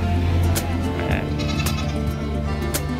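Goats bleat repeatedly at a busy livestock market, several sharp calls rising over a steady low rumble of engines and crowd noise.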